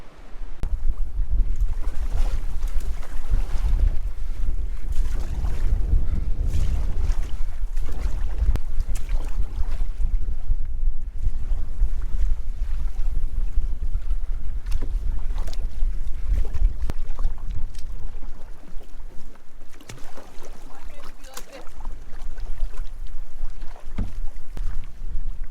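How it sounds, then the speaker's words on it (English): A canoe is paddled across a lake, with steady water swish and wind buffeting the microphone throughout and no talking. "We decided to paddle across."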